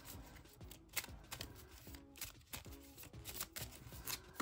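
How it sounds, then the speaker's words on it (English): A deck of cards being shuffled by hand, a series of quick riffling and snapping bursts close to the mic with brief pauses between, fairly quiet and without voices. "Gonna give this deck another shuffle again."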